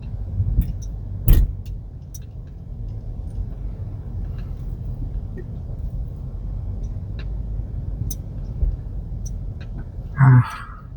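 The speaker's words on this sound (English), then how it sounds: "All right, so we're driving out." Car interior in Honolulu, Oahu, with a steady low engine and road rumble throughout, the air conditioning running, a few faint clicks and a brief louder knock near the end.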